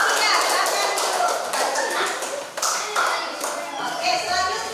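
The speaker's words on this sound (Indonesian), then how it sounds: "kita berikan tepuk tangan dulu untuk kelompok 3" Classroom of students clapping for a group's presentation in a university teacher-training class in Malang, Indonesia, a brisk burst of close, uneven hand claps with children's chatter and talk mixed in, tapering off toward the end.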